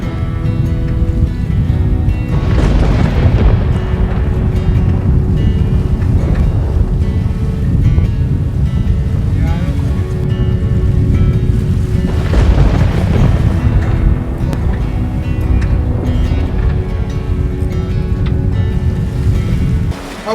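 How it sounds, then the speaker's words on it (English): A sailboat under way offshore at night along the Florida coast near Port Canaveral, with a steady loud rush of waves and wind against the hull throughout, swelling in surges. "We're making pretty good time sailing up the coast."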